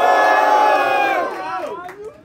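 A crowd at a street hip hop rap battle, Batalha do Complexo in Bahia, roars and shouts in a loud, sustained burst that fades out as individual yells trail off.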